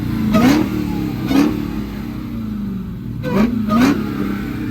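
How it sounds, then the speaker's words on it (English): Supercharged Dodge Challenger Hellcat Redeye engine revving hard in four loud bursts, each rising blip with supercharger whine falling back to a rumbling idle, heard close at a car meet. "Supercharger sounds crazy."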